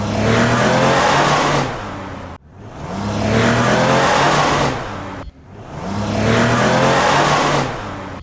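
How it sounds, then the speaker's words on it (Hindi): A car on a haunted highway in India speeds up hard, its engine revving in three loud, close surges, each climbing in pitch before dropping off briefly. "गाड़ी की स्पीड बढ़ाता है"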